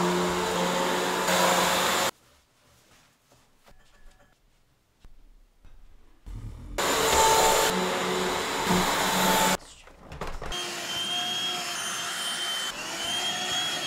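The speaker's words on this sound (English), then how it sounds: "So I'm gonna go grab the vacuum and get this done." A vacuum cleaner runs on a rug indoors in a bright room, loud steady whine in bursts broken by quiet gaps as it stops and restarts, with no voices.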